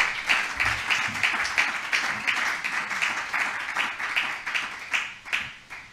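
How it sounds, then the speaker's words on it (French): A church congregation at a pastor's leadership conference bursts into sustained applause, many hands clapping in a dense, steady wash that rises and falls slightly, with a few faint cheers mixed in. "Est-ce qu'on peut acclamer le Seigneur pour cela?"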